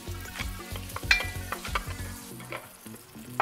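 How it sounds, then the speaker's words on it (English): Six tablespoons of butter melt and sizzle in a 5.5-quart Dutch oven over medium-high heat, a soft steady frying hiss broken by a few clinks and scrapes of a utensil, close and without talk. "Place a large pot or Dutch oven over medium-high heat and add 6 tablespoons of butter"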